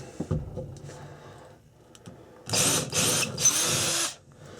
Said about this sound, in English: Now I've got me the drill bit here in the old drill, pretty much ready to drill the final holes.